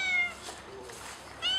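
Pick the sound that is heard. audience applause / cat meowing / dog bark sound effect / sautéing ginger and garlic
cat meowing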